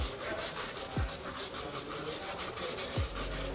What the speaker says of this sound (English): So I like to scrub my my rubber on the tire first.